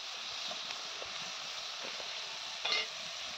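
Fish frying in oil in a pan, a quiet steady sizzle with scattered small pops and one brief louder crackle near the end, no voices.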